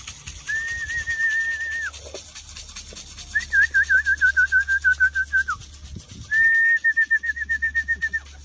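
Pigeons call in a series of clear, tonal whistling coos in three separate runs, moderately close, over a steady low background hum, with no talk.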